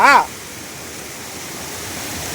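Strong water rushing steadily after a night of rain, a broad continuous roar that carries on alone, with a short burst of voice at the very start.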